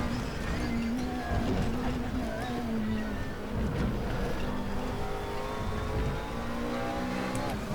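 McLaren 12C GT3 race car engine in RaceRoom at the Nürburgring, droning and rising through the revs with gear-shift dips and sliding pitch sweeps, continuous and fairly loud, with someone talking over it.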